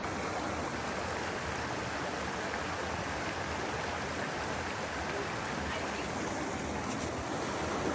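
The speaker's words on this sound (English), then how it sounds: "Is the waterfall right there?" Steady, dense rush of falling water at a waterfall reached after an hour-long hike near Vilcabamba, loud and continuous throughout with no speech over it.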